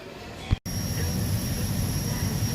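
A steady airplane cabin roar of engine noise fills the space after a brief clunk, a constant broadband hum from a passenger flight heading to Virginia.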